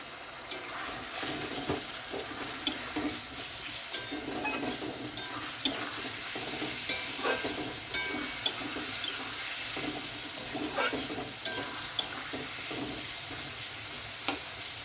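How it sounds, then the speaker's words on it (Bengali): Spice paste with Kashmiri red chilli powder, a little sugar and water sautéing for an egg curry, a steady wet sizzle with scraping stirs and occasional sharp clicks of a spoon against the pan. "দিয়ে ভালো করে মশলাটা কষিয়ে নেবো"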